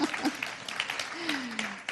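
An audience at an event with the IMF Managing Director and the UN Deputy Secretary-General claps in a brief scattered burst, moderately loud, with a voice sounding alongside it.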